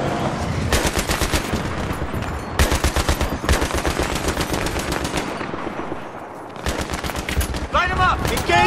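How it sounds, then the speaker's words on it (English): Sustained automatic gunfire in a Battlefield 3 firefight, rapid loud bursts chattering almost continuously with brief gaps, close and dense, with faint voices under the shots. "Covering fire!"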